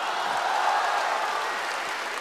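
Steady, dense applause from a live audience fills a Deyun Society crosstalk show featuring Guo Degang and Yu Qian, holding at an even level for a couple of seconds with no speech over it.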